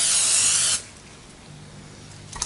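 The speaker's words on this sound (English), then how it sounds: "I'm gonna grease it a bit at the bottom." Cooking spray hisses in one loud, close burst lasting under a second as the bottom of a tart pan is greased, followed by quiet kitchen background and a faint brief clatter.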